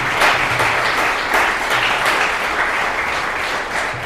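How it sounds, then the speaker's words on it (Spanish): A crowd claps loudly and continuously for a few seconds, a dense, steady wash of applause with no talking over it. "Denle un aplauso al Señor"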